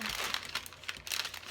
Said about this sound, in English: tear my page off to get a nice clean